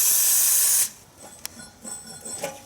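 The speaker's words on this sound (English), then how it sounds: "spray them down with penetrating oil and it makes slipping them out quite easy" Penetrating oil sprays onto rubber exhaust hangers on a 2019 Ford F150 5.0L: a loud, close hiss that lasts under a second, followed by faint clicks and handling noises.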